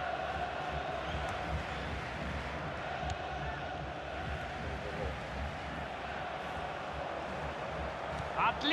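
Football video game crowd noise, a broad steady roar of displeased fans filling the stadium throughout, continuous and moderately loud with no distinct cheers standing out.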